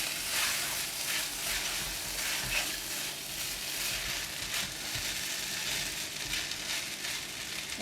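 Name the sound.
stirring egg and mushroom into frying rice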